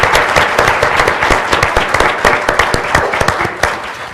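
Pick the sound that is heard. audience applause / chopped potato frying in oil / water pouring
audience applause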